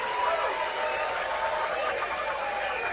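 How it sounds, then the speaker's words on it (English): A crowd cheers around pool table 1 at the Predator WPA Teams 10-Ball semi-final, a continuous wash of cheering and clapping that stays even throughout. "Hear the cheers coming from table 1."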